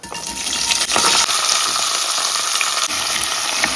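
Shallots, fennel seed, cinnamon, cloves and cardamom frying in hot oil for a Jaffna-style mutton curry tempering, a loud, dense crackling sizzle right at the pan with a couple of stirring knocks, no speech.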